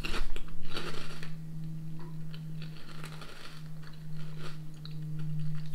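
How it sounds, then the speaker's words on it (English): Walkers vegan potato crisps crunch in a few scattered bites close to the microphone, over a steady low electrical hum, with no talking. "Well, I'm still kind of crunching on them."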